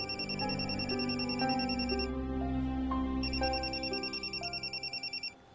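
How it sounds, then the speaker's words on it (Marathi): A telephone rings in a domestic scene from a Marathi TV serial. The electronic ringtone is loud and close, with a repeating melodic pattern in two bursts, and it stops abruptly near the end. "आता फोन तर घ्या,"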